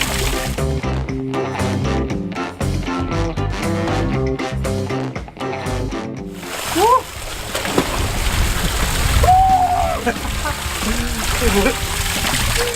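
Water running down a cement artificial waterfall into a swimming pool, a steady splashing rush that follows a few seconds of music, with voices talking over it.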